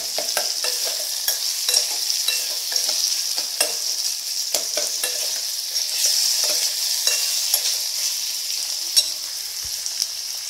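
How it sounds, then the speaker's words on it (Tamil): Tomatoes sauté in hot oil for a moong dal sambar, with a constant close sizzle and hiss broken by sharp, repeated clicks of a stirring spoon against the pan. "தக்காளி நல்லா வதங்கட்டும்"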